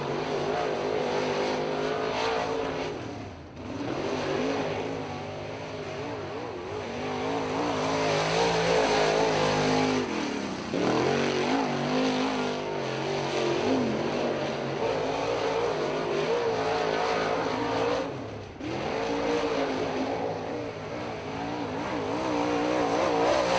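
Late model race car on a qualifying lap at Lake Ozark Speedway: a loud engine holds a steady, droning roar that rises and falls as it revs through the turns, with brief dips in pitch along the lap.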